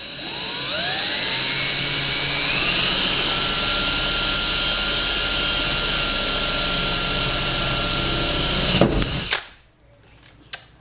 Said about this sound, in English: you're just going to want to drill through